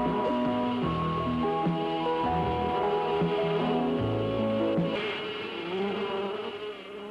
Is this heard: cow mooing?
no